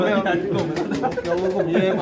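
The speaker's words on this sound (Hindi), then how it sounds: "यार ये की गल है फैजान, ये तूने अपने कबूतरों की कदर खुद करनी है" Pigeons cooing close by in a pet pigeon loft, soft throaty warbling coos repeating through the whole stretch while people talk over them.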